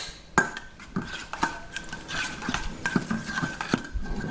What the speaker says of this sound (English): what we're going to do is just give that a quick mix